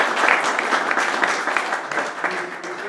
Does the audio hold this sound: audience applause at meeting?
yes